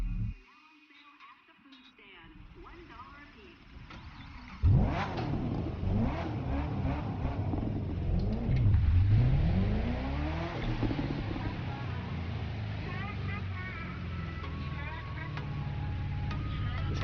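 A video game car's engine revs up and accelerates hard, and the pitch rises and falls through gear changes with a loud, sustained roar while someone talks over it.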